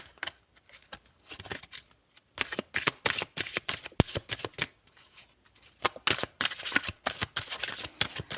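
Tarot cards being shuffled by hand in crisp, rapid riffling bursts, repeated several times with short pauses between, close and clear with no talking.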